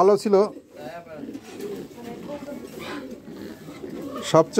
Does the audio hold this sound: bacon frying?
no